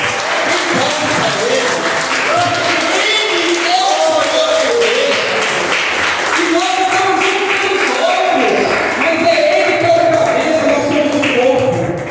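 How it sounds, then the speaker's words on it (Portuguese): A church congregation applauds in a steady, loud burst of clapping that runs throughout, with voices mixed in over the clapping. "Jesus Cristo merece as suas palmas?"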